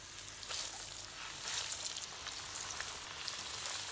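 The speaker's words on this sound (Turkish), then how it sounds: "Şimdi nuggetları kızartmak için sıvı yağ ekleyeceğim." Chicken nuggets frying in about a cup of vegetable oil in a pan on the stove, giving a steady, soft, close crackling sizzle with scattered sharper pops throughout.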